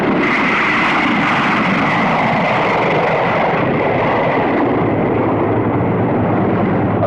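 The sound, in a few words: B-45 light bomber aircraft in flight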